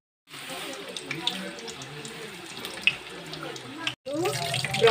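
Chicken samosas fry slowly in oil over a low flame, giving a steady soft sizzle and bubbling hiss that runs almost without pause, cut by one brief gap, with quiet crackles throughout.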